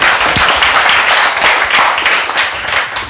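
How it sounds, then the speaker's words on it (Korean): Rally attendees at a Korean civic gathering break into applause, a close, lively patter of many hands clapping for about three seconds with a faint crowd murmur underneath. "박수 쳐라."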